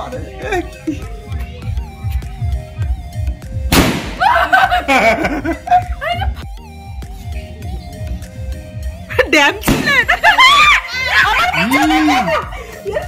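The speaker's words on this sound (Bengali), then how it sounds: "রীতিমতন বাজি ফাটিয়ে চলে এসেছি" Firecrackers burst outdoors in loud, sharp bangs, with a big blast near four seconds and another near ten, amid children's voices and chatter on a year's-end night.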